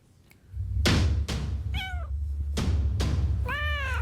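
A cat meows twice, clear and close, among several loud thumps and knocks from something set down or bumped nearby, over a steady low hum.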